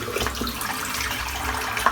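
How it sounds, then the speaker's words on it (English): Tap water runs steadily into a bathroom sink, a close, constant rushing splash with no talking. "I'm just going to fill the sink up"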